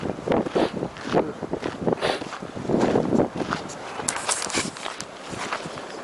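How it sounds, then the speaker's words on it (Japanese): Strong gusting wind buffets the microphone at a seaside campsite on the southern Izu coast, a steady broadband roar with rising and falling gusts and some footsteps and rustling of gear being packed, no talk. "強風の中やってます。"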